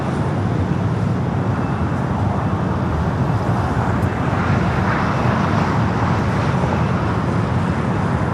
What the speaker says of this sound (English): Next arrival here on the south side, United Flight 2184 coming from Vegas,